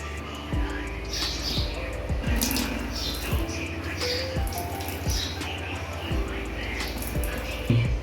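Water trickling and dripping as it is drained from chopped onion and green chillies for chapli kabab, with intermittent knocks and splashes, close and moderately loud.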